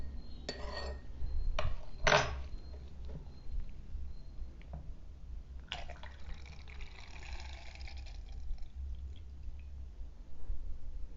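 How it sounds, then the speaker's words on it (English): Liquid solution poured through a funnel into a bottle for a homemade thermometer, with clinks of glass and handling at the start, then a soft trickling fill that rises in pitch. "open the bottle, take the funnel and pour in the prepared solution"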